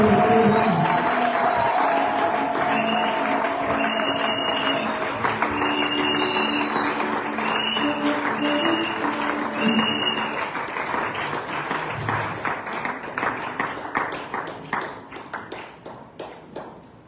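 A church congregation applauds loudly and steadily at a Sunday worship service, dense clapping with a few cheers that thins toward the end.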